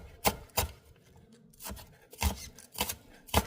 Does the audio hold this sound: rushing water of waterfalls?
no